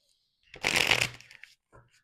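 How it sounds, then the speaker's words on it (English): Tarot cards being shuffled by hand in one close, brisk riffling burst lasting about a second, followed by a short, softer rustle of cards as they settle. "You want me to continue to shuffle? Okay, no problem. I'll shuffle."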